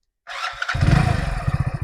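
A BS6 commuter motorcycle engine cranks and catches, settling into a loud, close idle with steady rapid putter after a short starter whir.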